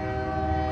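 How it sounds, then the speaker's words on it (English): Four-locomotive freight train on the Burlington Junction Railway at Quincy, Illinois, by the Mississippi River, sounding a steady, loud horn chord that holds for the whole short moment. "four locomotives on the Burlington Junction Railway"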